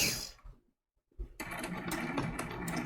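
A sewing machine stitches a snowflake appliqué for a quilted trivet: a short run, a brief pause, then a steady, close mechanical whir with rapid needle ticking.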